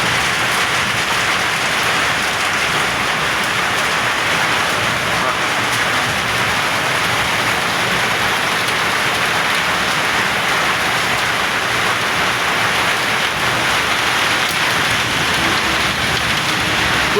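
Heavy rain pours steadily throughout a night thunderstorm, a dense, continuous roar that stays loud and close from start to finish, with no clear thunder crack standing out.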